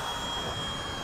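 A radio-controlled F-15 model jet, powered by a 6S 30C 6200mAh pack, flies past with a steady, loud broadband jet whine and rush that holds evenly throughout the short moment, with no talk.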